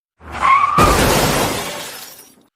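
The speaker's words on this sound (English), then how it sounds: "In a flash of twisted metal and shattered glass, their desperate race ended." A car crash: a brief skid screech, then a loud impact of twisted metal and shattering glass whose broad crunching noise rings out and tails away over about two seconds.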